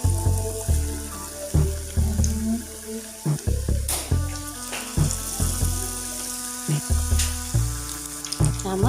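Battered raw plantain slices for bajji go into hot oil and fry, producing a continuous hissing, bubbling sizzle heard up close with small bursts and clatters throughout.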